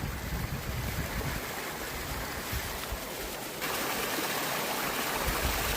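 Creek water in Yellowstone's Lamar Valley in snowy conditions, a continuous broadband rushing and gurgling flow, close and steady, slightly louder in the second half, with no voices.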